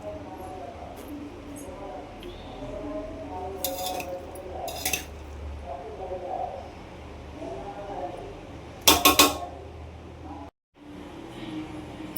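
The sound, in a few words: stirring mutton biryani in a pot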